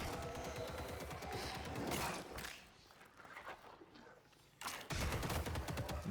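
Loud, dense gunfire from the character Graves's gun in a video game rips through in rapid overlapping blasts, drops to a quieter lull midway, then resumes at full force.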